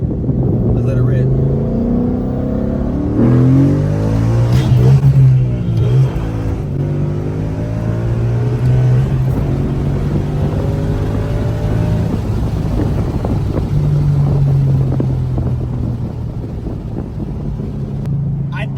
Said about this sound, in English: I get to really get behind the wheel and step on it.